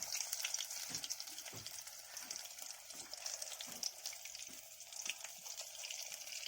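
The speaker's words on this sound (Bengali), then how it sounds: "এবার পটলগুলো ভাজবো।" Steady frying sizzle of pointed gourd slices with crackling pops and a few soft stirring knocks, close and continuous.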